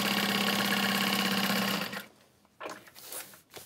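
A sewing machine stitching fabric for a tote bag whirs steadily and loudly for about two seconds, then stops, leaving a few soft handling clicks and rustles.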